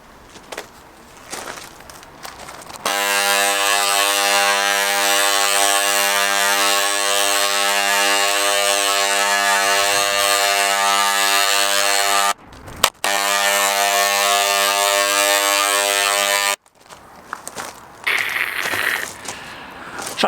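Energer ENB770SRG electric paint spray gun spraying Frenchic paint, a steady loud motor buzz running about fourteen seconds with a brief cut near the end, quiet handling noises before and after.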